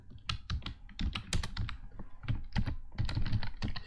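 Code typed on a computer keyboard in steady, close, fairly loud bursts of keystrokes with short pauses, with no voice.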